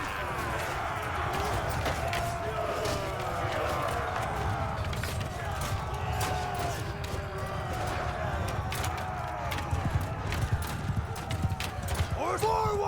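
Cavalry horses gallop across a battlefield in Mount & Blade II: Bannerlord, a dense continuous rumble of many hooves with faint whinnies, steady and loud throughout under distant battle noise.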